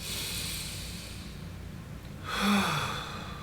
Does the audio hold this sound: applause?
no